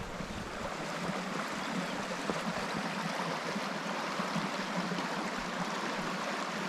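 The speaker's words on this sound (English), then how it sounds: "Well, I made it to the creek." A creek flows in winter near the Ontario-Manitoba boundary in the Whiteshell, a steady broadband rush of running water with light wind on the microphone, continuous and moderately close.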